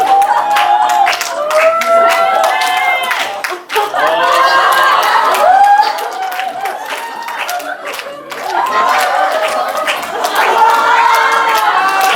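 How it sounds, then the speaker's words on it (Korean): Audience clapping and cheering fill a school presentation event, loud and sustained with a brief dip in the middle, mixed with excited voices and whoops from the crowd. "박수 더 크게 쳐주세요."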